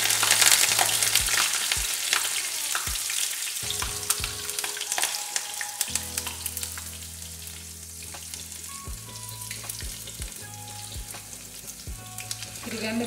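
Green chillies crackle and sizzle in hot oil for potato chivda, a steady bright frying hiss punctuated by sharp taps and scrapes of stirring close by.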